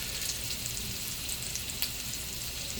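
Steak browns in a cast iron pan with a steady, dense sizzle and crackle, close and even throughout, with occasional sharper pops and no talking.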